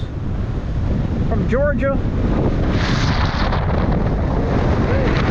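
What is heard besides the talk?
wind blowing at the beach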